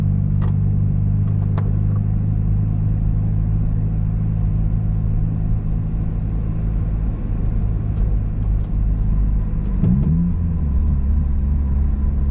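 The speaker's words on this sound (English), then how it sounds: "why are you tapping your throttle like that?" A manual car's engine idles with a steady low rumble in close, continuous tone, with a brief throttle blip near the end as the driver taps the pedal.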